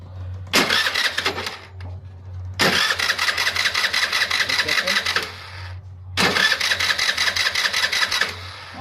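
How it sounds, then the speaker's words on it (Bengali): A Hero Maestro Edge scooter with an electrical current fault is self-started three times. Each attempt is a loud whirring crank of a second or more, followed by a pause, over a low steady hum. "চলো সেলফটা মেরে দেখা যাক।"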